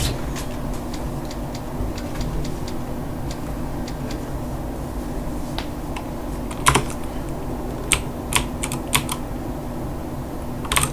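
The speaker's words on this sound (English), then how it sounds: "So these typewriters let you save as well." A typewriter at a save point in Resident Evil 4 clacks in irregular bursts of sharp keystrokes, with a few louder strikes near the end, over a steady low ambient hum and no speech.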